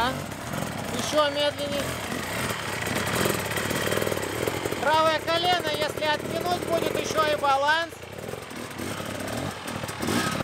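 A standard enduro motorcycle crawls along slowly on the clutch, its engine note rising and falling in short revving bursts. Someone talks over it throughout, close to the mic.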